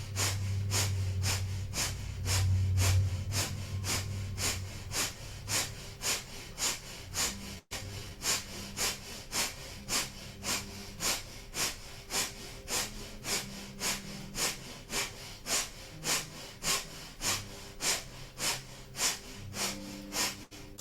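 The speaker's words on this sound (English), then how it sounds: "Powerful breath of fire," Kundalini yoga breath of fire, fast rhythmic pumping exhalations through the nose driven from the navel: a long, steady train of sharp, evenly spaced breath bursts, close and alone.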